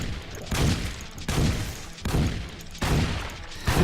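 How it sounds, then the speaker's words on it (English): Shotgun blasts from a first-person game jam shooter fighting Hellspawn: four loud, booming shots fired at a steady, roughly even pace, each with a short rumbling tail. "I have a shotgun. I am shooting Hellspawn."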